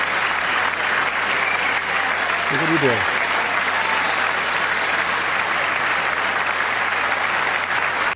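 Steady, dense applause from a large audience fills the whole stretch, with a brief spoken question rising over the clapping.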